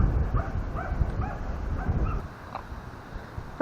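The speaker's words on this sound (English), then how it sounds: "Dogs have gone mad." Several dogs bark and yip at a windy outdoor campsite in short, irregular bursts at middle distance over a constant rumble of wind.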